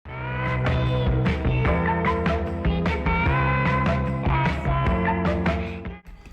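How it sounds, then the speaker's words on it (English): A dense, gritty loop of high-pitched, pitched-up sample notes with a distortion effect made in FL Studio's Maximus plays steadily at full level for several seconds, then cuts off abruptly. "then we add a distortion filter and it sounds like this."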